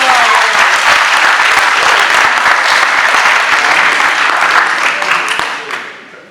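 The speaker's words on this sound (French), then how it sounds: "on applaudit, voilà." Guests at a civil wedding ceremony in a town hall break into loud, sustained applause that stays strong for several seconds, then thins and fades out toward the end.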